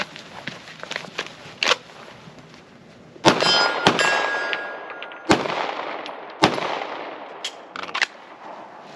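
Pistol shots ringing off a steel target during a confined-space DMR match stage, several sharp loud cracks spaced a second or more apart, each followed by a metallic clang and decaying ring, amid outdoor background noise.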